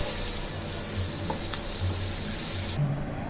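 Okra stuffed with spices sizzles steadily in a hot pan for a home-style fry, a continuous close hiss with faint stirring clatter beneath it, no voices present.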